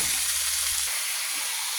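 Scallions and onions stir frying for chicken and shrimp chop suey, a steady broadband sizzle that runs evenly through the short stretch, close and fairly loud, with a faint low rumble early on and no voices.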